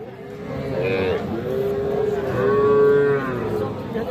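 A young crossbred calf, around two to two and a half months old, moos loudly several times at a cattle market, its drawn-out calls rising over crowd noise and background chatter.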